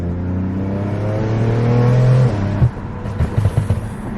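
BMW F80 M3 with catless downpipes accelerating, heard from inside the car: a loud, rising engine note that drops off, followed by a quick run of sharp exhaust pops and crackles.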